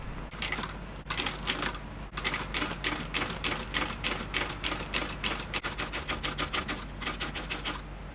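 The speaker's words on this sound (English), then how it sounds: "I'm going to sew it 1/8 of an inch from that" A sewing machine runs in steady bursts of rapid needle strokes, stitching a seam 1/8 inch from the edge of a Celeste East West bag in white thread, close and continuous with brief pauses.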